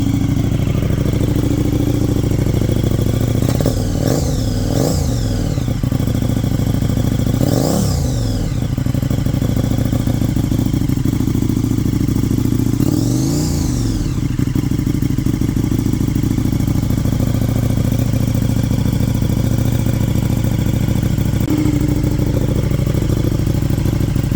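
A 2022 KTM 1290 Super Duke R Evo motorcycle with an Austin Racing exhaust idles loudly and close up, a steady deep engine rumble broken by a few brief throttle blips, with no talk.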